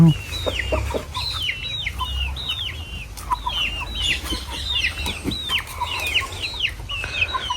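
Chickens, hens with a rooster, cluck and chatter steadily in a close, busy flock while pecking at food, their short bright calls overlapping over a low background rumble.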